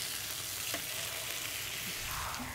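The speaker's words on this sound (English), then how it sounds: "The salmon's looking ready to flip. Give it a nice turn on our grill." Honey BBQ salmon sizzles steadily on a grill as it is flipped, giving an even, close frying hiss with a faint click or two from the turn.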